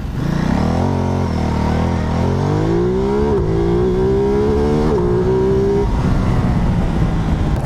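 A V2 motorcycle launches from a standing start, its engine note climbing steadily in pitch with brief dips at gear changes before settling into a loud, sustained drone, with no talking.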